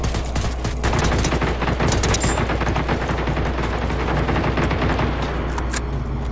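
Sustained automatic gunfire from the video game Generation Zero, a dense, loud and continuous fusillade of rapid shots with heavy booming low end, running steadily without pause and no talk over it.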